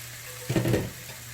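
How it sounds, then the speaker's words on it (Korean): Soaked japchae glass noodles with blanched mushrooms hitting a hot pan and being stir-fried, a quiet background hiss that swells into a brief, loud burst of sizzling and tossing, then fades. "자, 살짝 볶아줘야지 코팅이 되면서 불지 않아서 좋습니다."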